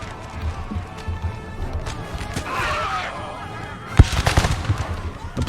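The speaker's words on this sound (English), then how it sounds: "We're going to start shooting here" Troops firing in a multiplayer battle in the American Civil War mod for Napoleon Total War, fought through trees along fences and stone walls: scattered distant musket pops, then a sharp near crack and a brief ragged volley of shots over battle rumble.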